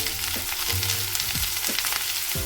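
Onions frying in hot coconut oil give a loud, steady sizzle and crackle, with faint scrapes of stirring and no voices.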